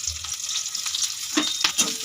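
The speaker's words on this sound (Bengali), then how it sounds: "একটু লাল লাল হওয়া তক্ষ ভেজে নেবো" Chopped garlic and green chillies sizzle in hot oil with panch phoron in a wok, a bright steady crackle with a few sharper pops and stirring scrapes near the end, close and clear with no talking.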